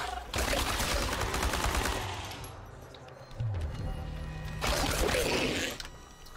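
Automatic rifle fire in the video game Chernobylite, two long rapid bursts of shots that sound close and loud, separated by a short pause with mechanical clatter.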